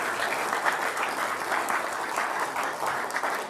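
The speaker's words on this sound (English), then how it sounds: "Can we give Henry a big round of applause?" Steady applause from a crowd at a Putnam County campaign kick-off rally, honoring a former law enforcement officer, dense, even clapping sustained throughout with no voices standing out.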